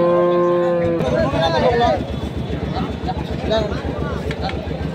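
A bull mooing loudly at a busy cattle market in Chattogram, with harmonic lowing in the first second, then crowd chatter and low rumble continuing underneath.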